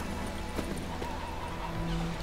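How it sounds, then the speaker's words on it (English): Horse hooves clip-clopping with a neigh in Witcher 3, the game's dense ambient soundscape running steadily underneath for a couple of seconds. "That's not my horse."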